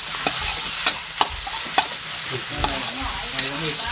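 Squid eggs stir-fried in oil and oyster sauce in a pan: a steady sizzle broken by sharp, evenly spaced spatula clanks against the metal, close and loud, with no voices.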